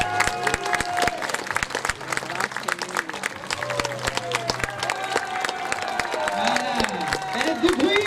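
Crowd clapping for costumed participants at a Venetian-themed costume parade podium in Chanaz, irregular hand claps mixed with cheers, whistles and a voice over a loudspeaker.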